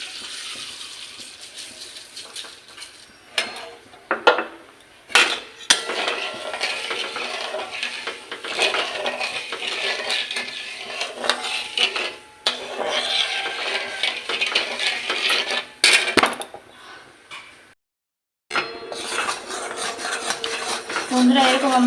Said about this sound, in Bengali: বন্ধুরা এরকম আমরা অনবরত নাড়তেই থাকবো, নাহলে লেগে যাবে।